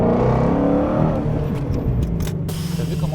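A Ford Mustang Shelby GT350 accelerates hard from close by, its engine note rising in a strong rumbling roar that eases off toward the end.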